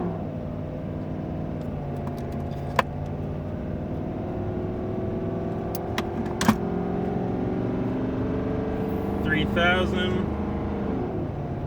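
Ram Cummins diesel truck with a 5-inch straight-piped exhaust accelerating on a highway, a steady droning engine note held under 20 pounds of boost, with someone talking over it throughout.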